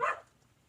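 A dog gives one short, sharp bark outdoors in a backyard garden, moderately close. It fades quickly into quiet.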